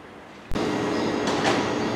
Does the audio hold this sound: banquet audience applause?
no